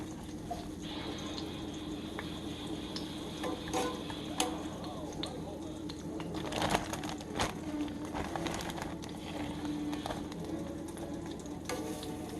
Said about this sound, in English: I just slice it real thin and coat it in that flour and put her in here and fry her up good and brown